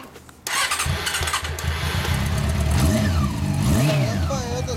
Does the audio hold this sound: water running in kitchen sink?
no